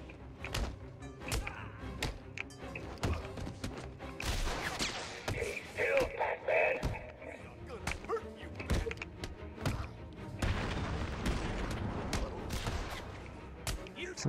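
Gunfire and impact thuds in the Batman: Arkham City video game, with sharp repeated cracks and bursts scattered throughout, heard over a busy game soundscape while someone comments over it.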